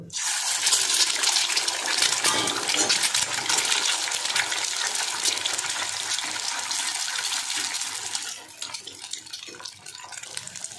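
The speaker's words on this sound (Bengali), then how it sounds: "কড়াইয়ে তেল দিয়ে দিয়েছি, এবার ডিমটা ছেড়ে দেব।" Four eggs fry in hot oil in a wok, giving a steady loud sizzle and crackle that lasts throughout and eases slightly near the end, with no voices.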